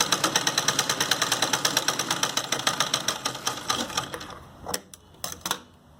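Sewing machine stitching a salwar seam, a fast, even mechanical clatter of needle strokes that runs steadily, then slows and stops, followed by a few separate clicks and thumps, close and without talk.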